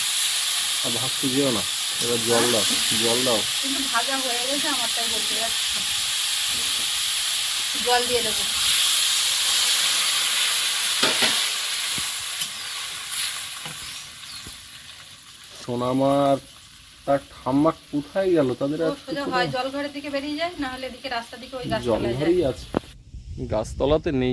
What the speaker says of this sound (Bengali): টকবক করে ফুটছে এখন খুলে দেখি কি অবস্থা